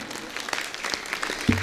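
An audience at a poetry gathering claps, giving a short, fairly soft burst of steady applause.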